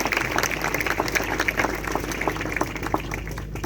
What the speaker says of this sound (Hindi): एक जोरदार ताली आप अपने आयोजकों के लिए